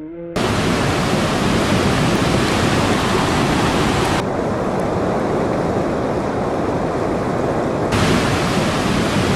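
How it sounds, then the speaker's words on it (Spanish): The Tisisat waterfall on the Blue Nile in Ethiopia plunges down a 45-metre cliff, producing a loud, unbroken roar of rushing water that barely changes in level throughout. "El río cae por un precipicio de 45 metros de altura"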